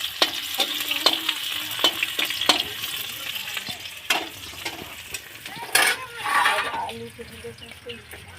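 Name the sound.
potatoes frying with chili and onion in a pan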